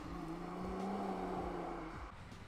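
A Nissan GT-R with carbon fiber intakes revs, and its turbo blow-off valve releases a loud breathy whoosh over the engine note. The rumble then drops away.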